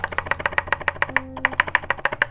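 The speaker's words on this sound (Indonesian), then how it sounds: "Suara spacebar." Repeated spacebar presses on a Genshin Impact Keqing mechanical keyboard with TTC switches, about twenty close, even thocks in a steady quick rhythm, alone with no talking.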